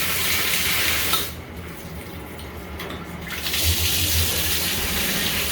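Machine coolant hose spraying at full blast during coolant maintenance, a steady broadband hiss of water gushing, loud and continuous, with a brief dip in the upper range midway before the full spray returns.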